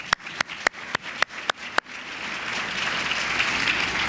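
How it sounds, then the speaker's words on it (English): Applause from an audience at a book talk in Atlanta opens with a handful of sharp, evenly spaced single claps, then swells into a steady crowd wash that builds slightly and carries on without talk. "big round of applause to you folks"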